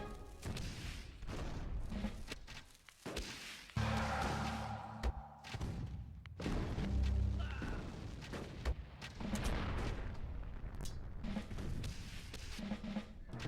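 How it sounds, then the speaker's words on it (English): A barracks comes under bombardment in the Rise of Nations strategy game: repeated booms and gunfire crackle in overlapping bursts, moderately loud and steady, with scattered crashes and thuds. "Absolutely bombarding this bloody barracks."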